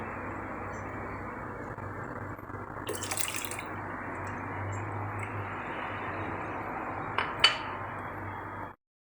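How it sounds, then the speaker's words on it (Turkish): Freshly squeezed lemon juice pouring into crushed watermelon juice, a steady close trickling stream lasting several seconds, with a few faint clinks of glass near the end and no talk. "Sıktığımız limonları da ilave ediyoruz içine."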